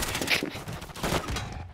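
Rapid gunfire bursts from Modern Warfare 3 in a Shoot House match crackle loudly throughout, mixed with game effects, with no voices over them.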